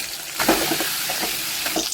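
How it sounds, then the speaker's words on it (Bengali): Potatoes seasoned with salt and turmeric fry steadily in hot oil for a chicken kosha dish, giving a continuous close sizzle with a few crackling bursts and no talking. "এর আলুটা ভালো করে ভেজে নিচ্ছি"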